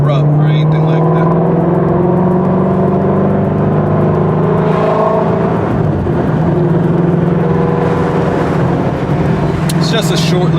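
A Shelby GT350 fitted with an aftermarket splitter drives on a short test run, its engine humming and whirring steadily from inside the car with rising and falling revs.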